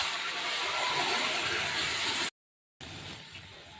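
Mango pieces drop into hot oil seasoned with Kashmiri chilli powder and fried spice mix, giving a loud, steady broadband sizzle that cuts out abruptly, then resumes at a lower, hissing level.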